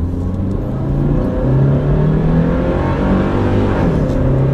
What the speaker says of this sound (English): I'll just get out on the road and I'll just floor it.